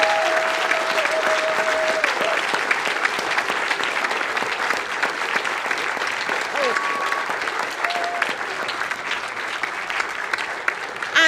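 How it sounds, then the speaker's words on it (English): Sustained applause from an audience at the British Skydiving AGM and awards ceremony, a dense steady clapping that fills the room at even loudness throughout, with a few brief tonal sounds rising faintly above it. "So I would ask you to give a round of applause to Angela Hickling."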